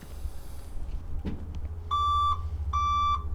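Backup alarm on a truck during a pre-trip inspection sounds two loud, steady electronic beeps, each about half a second long, over a low idling engine rumble.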